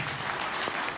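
Brief burst of audience clapping at a motivational talk, a dense, steady wash of applause from a crowd, fairly loud and without a break.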